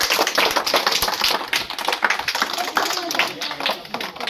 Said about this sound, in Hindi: चलिए ताली बजाते रहे